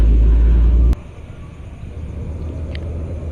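An Eva Star bus passes on the road with a loud, close, deep engine rumble that cuts off after about a second, leaving a quieter steady road hum.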